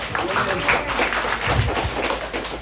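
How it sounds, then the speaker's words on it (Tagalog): A church congregation claps together in sustained, dense applause with voices mixed underneath, filling the room. "Palakpak kayo ng sarili."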